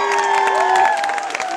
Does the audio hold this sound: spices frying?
no